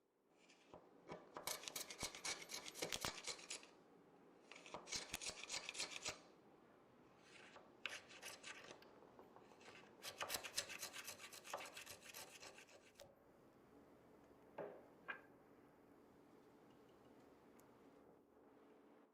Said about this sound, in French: Les broches que vous m'avez vu utiliser tout à l'heure pour gratter les coins étaient en fait faites maison.